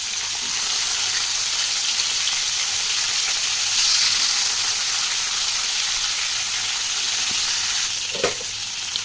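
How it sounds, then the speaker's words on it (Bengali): A steady, close sizzle of salt-and-turmeric-coated snakehead fish frying in mustard oil in a wok runs unbroken, with a brief clatter near the end as the fish is stirred or turned; no one speaks. "কড়াই দিয়েছি সর্ষের তেল আর মাছটা ভেজে নিচ্ছি।"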